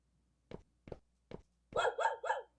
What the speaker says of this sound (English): a toy dog that can make noises